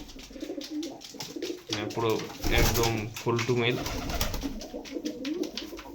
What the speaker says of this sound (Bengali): এই আমার ঘর পায়রার।